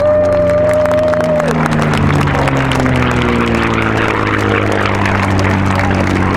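A P-51C Mustang racing plane roars past loudly at the Reno Air Races, its engine drone sliding downward in pitch as it passes, with crowd noise in the background.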